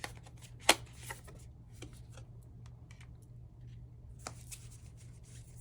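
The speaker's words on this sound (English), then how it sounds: "I'm going to pull 2 cards from this because they're big cards" Large oracle cards being shuffled by hand: soft, papery riffles and scattered taps, with one sharp slap near the start and another brush of cards toward the end, over a quiet room hum.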